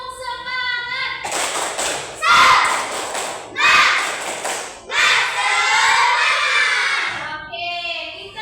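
A classroom of students performs the 'tepuk semangat' rhythmic clapping chant, bursts of loud group claps and shouted chanting in several surges, led by a teacher's voice.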